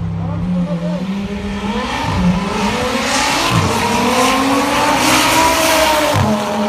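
Race cars at a drift and drag championship at Luanda's autodrome roar loudly as engines rev and accelerate, with screeching tires and shifting engine pitch over continuous crowd-level noise.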